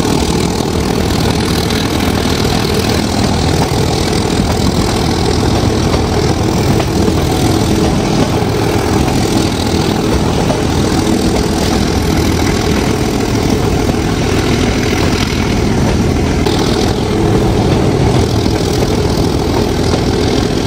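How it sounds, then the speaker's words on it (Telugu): A meter gauge diesel locomotive on the Marwar to Goram Ghat line runs with a loud, continuous tractor-like engine drone that stays close and steady throughout. "కొంచెము నాకు ట్రాక్టర్ కైండ్ ఆఫ్ సౌండ్ లాగా అయితే వినిపిస్తుంది ఈ ఇంజన్ యొక్క సౌండ్"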